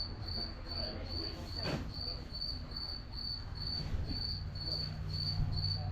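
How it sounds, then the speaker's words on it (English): A single loud cricket chirps in steady, evenly spaced high pulses, continuing without pause over a low indoor hum at a small-town Kansas auction. "a stupid loud cricket somewhere"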